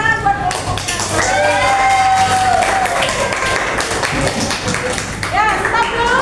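Students in a classroom clapping for a group, bright scattered claps and taps mixed with children's chatter and excited voices, close and lively throughout.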